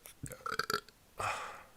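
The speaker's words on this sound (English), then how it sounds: "Keep on burping today, man." A man lets out a couple of short, choppy belches, then a longer, louder rasping burp that trails off, close to the mic.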